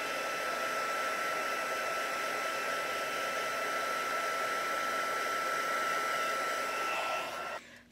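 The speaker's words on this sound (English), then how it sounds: "you're going to bring in your embossing tool, and you're just going to go ahead and emboss that." Embossing heat tool melting embossing powder on a card, a steady, close hair-dryer-like blowing whine held evenly for several seconds before it cuts off.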